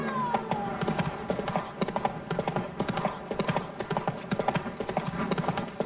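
Roach, the horse in The Witcher 3: Blood and Wine, gallops in steady, rhythmic clip-clop hoofbeats over a dense bed of game music, close and continuous for the whole stretch.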